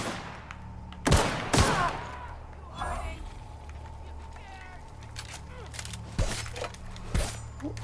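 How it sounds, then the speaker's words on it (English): Gunfire rings out in The Outer Worlds video game: several sharp, separate shots burst at irregular intervals among quieter in-game ambience, with a voice speaking between them. "Who's shooting?"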